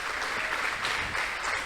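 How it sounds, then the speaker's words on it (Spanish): A church congregation applauds in a dense, sustained wash of clapping that fills the room at an even loudness from start to finish. "Vamos a darle un aplauso al Señor."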